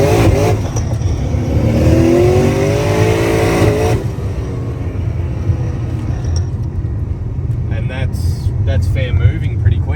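A twin turbo MPW 1500+ VF street car accelerating in second gear on a roll-on, its loud engine note rising steadily from inside the cabin with someone talking over it.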